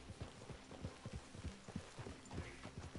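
Horse hooves clip-clop steadily in Red Dead Redemption free roam, a quick, even rhythm of close, moderately loud hoofbeats over a low ambient hum.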